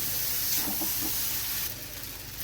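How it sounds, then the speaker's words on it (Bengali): Drained vermicelli (semiya) dropped into a hot pan, giving a loud, broad sizzle and hiss that stays steady and eases off slightly near the end, with no talk over it. "জল ঝরিয়ে রাখা সেমাইটা এর মধ্যে দিয়ে দিলাম।"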